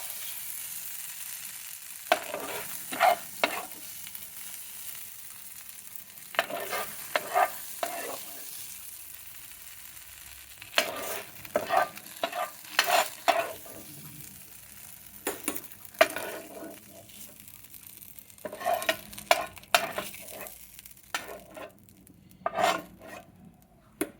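Okra, called bendakaya, fries in a little oil in a pan, with a steady soft sizzle broken by repeated bursts of scraping and stirring from a spatula roughly every few seconds, close up, with no voices.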